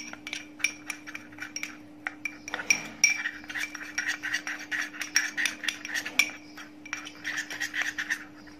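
Ingredients are mixed with olive oil, giving a stream of soft clinks, scrapes and taps of a utensil against a bowl, close up and fairly quiet over a faint steady hum.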